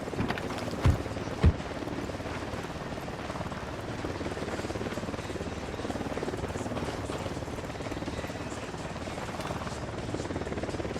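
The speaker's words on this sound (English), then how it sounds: "Chopper's approaching. Chopper incoming." A helicopter's steady rotor thrum fills the scene in the video game Boston Reed: Into the Ashes, continuous and moderately loud, with two sharp thuds near the start.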